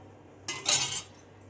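A ladle clinks against a cup in one short clatter as hot betel leaf rasam is poured in, then a faint tap follows in a quiet room.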